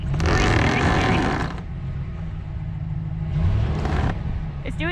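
A RAM 1500 pickup in four-wheel drive spins its tires on a traction board in snow, a loud grinding, whirring surge that dips and swells again over a few seconds while people talk nearby.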